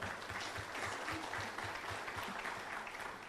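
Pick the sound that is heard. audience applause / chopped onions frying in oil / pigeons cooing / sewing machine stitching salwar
audience applause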